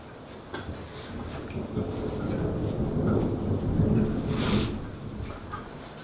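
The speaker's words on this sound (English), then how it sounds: "Oh, it's starting to hail again." Hail pelting down during a storm, a steady dense patter with a low rumble underneath that swells in the middle and eases toward the end, with no voices.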